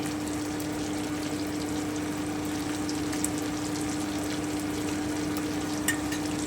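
Chicken frying in a pan, a steady even hiss under a constant low hum, with a couple of faint clicks from stirring and no voices.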